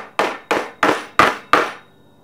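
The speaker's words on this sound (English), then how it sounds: "As far as a hammer, I'm just going to use the backside of my screwdriver." The back of a screwdriver handle is used as a hammer, striking five sharp, evenly spaced taps in quick succession, close and loud, each with a brief ringing decay.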